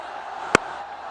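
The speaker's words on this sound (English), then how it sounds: "Listen to the crowd." Cricket stadium crowd at an HBL PSL match roars steadily after a boundary four by Babar Azam, with one brief sharp burst rising from the continuous din.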